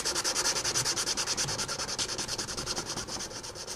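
A guitar pick rubbed back and forth on sandpaper laid over a book corner gives fast, even, rhythmic scratchy strokes, close and fairly loud, with no talking.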